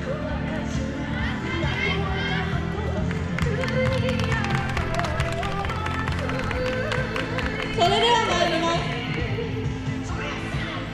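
Crowd clapping in steady rhythm along with music and chanting voices at a yosakoi dance performance during the Yaartose Akita festival, a lively festival atmosphere with continuous sound.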